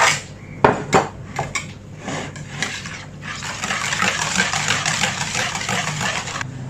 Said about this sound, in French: On va simplement la battre donc au fouet